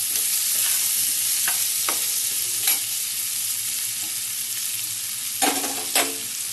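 A paste of onion, garlic, ginger and dried red chilli powder fries in a pan with a loud, continuous hiss, broken by a handful of sharp spatula scrapes as it is stirred.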